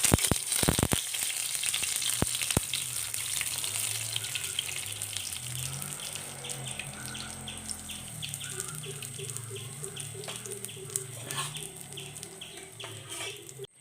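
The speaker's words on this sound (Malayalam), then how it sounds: "ഒരു പാനിൽ വെളിച്ചെണ്ണ ചൂടാകാൻ വച്ചിട്ടുണ്ട് അതിലേക്ക് ഒരു പിടി കറിവേപ്പില ഇട്ട് കൊടുക്കാം" Curry leaves drop into hot coconut oil in a pan for a prawn fry, starting with a burst of sharp crackles that settles into a steady, moderately quiet frying sizzle.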